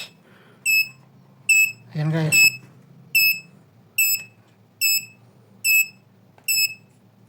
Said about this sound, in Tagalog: tumunog yung buzzer guys